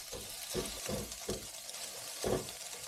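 Eggs cook in a pan while a utensil stirs and scrapes through them, a steady soft sizzle running beneath intermittent low thumps and clatters, close and moderately quiet, with no voices.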